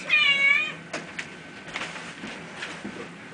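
A pet cat, just home after a trip in a carrier, lets out one loud, close meow, followed by soft shuffling and light clunks of movement indoors.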